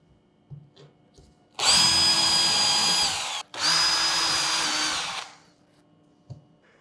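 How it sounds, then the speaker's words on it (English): Power drill boring pilot holes into material clamped on a SmartBench, two loud sustained whirring runs separated by a brief pause, with quiet handling knocks before and after. "I'll put in some pilot holes into this material and then I'll screw it down"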